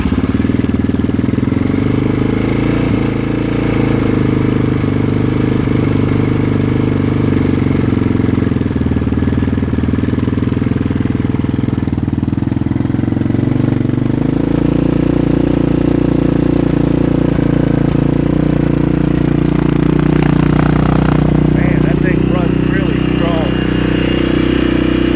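Yamaha Raptor 660R ATV engine running steadily after a choke start, a loud continuous low idle throb with slight rises in pitch and some clatter, with a voice speaking over it at times.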